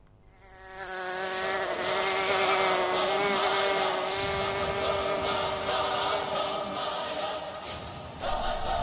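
A mosquito whines close to the microphone, a steady high-pitched insect buzz that swells in after a moment and holds loud for several seconds with slight wavering.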